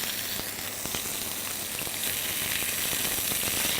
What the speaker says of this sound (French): on place notre viande dans la poêle. Vous entendez? Il faut faire chanter la poêle.